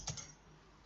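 Brief keyboard typing while an amount is entered on a computer, two or three quick close key taps at the start followed by quiet room tone.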